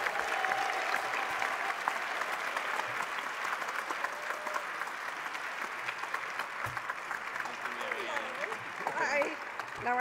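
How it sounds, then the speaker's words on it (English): A theatre audience at an awards honoree presentation claps in sustained, even applause for about ten seconds, a dense, steady patter heard from the crowd with a few brighter claps near the end. "Please give a round of applause to Marianne Mills and Hal Newman."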